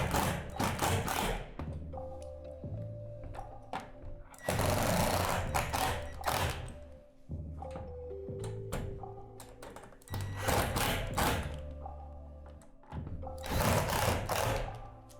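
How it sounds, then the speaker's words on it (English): A power driver tightens hardware on the drainage plate and roof of a Lifetime 15' x 8' outdoor storage shed, in several short whirring bursts separated by pauses and light thuds, close and fairly loud. "tighten the hardware on the drainage plate and secure it to the roof"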